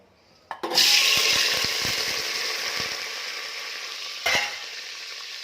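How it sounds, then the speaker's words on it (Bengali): Potatoes tipped into hot oil heating in a pressure cooker, bursting into a loud, close, broadband sizzle that hisses on steadily, with a second sharp flare of crackling a few seconds later. "আলুগুলো একটু লাল করে ভেজে নেবো"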